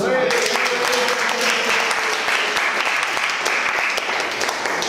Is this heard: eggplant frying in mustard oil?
no